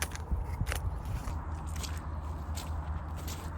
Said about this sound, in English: See, when it's ripe, it snaps up like that.